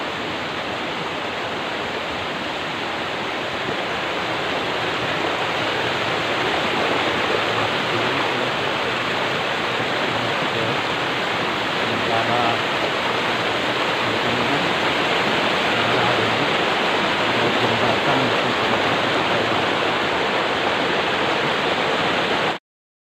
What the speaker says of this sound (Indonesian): ada sungai kecil.